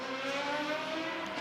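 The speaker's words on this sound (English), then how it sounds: "So that was Chip Romer just navigating a slower car there at the top of the corkscrew and going around the long way around." A Radical race car at Laguna Seca circuit hums with a steady, sustained engine drone at racing speed, moderately distant, over the full short stretch.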